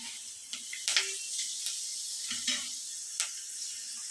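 Fenugreek seeds sizzle in hot oil, a soft continuous frying hiss with scattered small pops and ticks, close and fairly quiet, without any voices.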